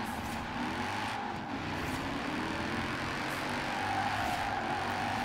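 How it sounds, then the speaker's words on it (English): A BMW M1 fitted with a Mercedes AMG engine, driven in the Forza Horizon 4 racing game, holds a steady engine drone that builds slightly toward the end, with no talking. "It's a BMW M1 with a Mercedes engine."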